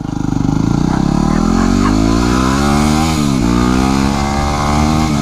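A Yamaha WR250R motorcycle engine runs while riding, loud and close, its note climbing through the revs, dropping briefly with a gear change, then rising again in a steady pulsing drone.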